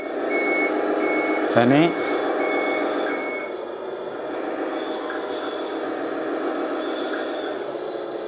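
A 1/14-scale RC hydraulic Komatsu WA480 wheel loader drives backward with a steady, repeating reversing beep over a continuous motor whine. A person speaks briefly.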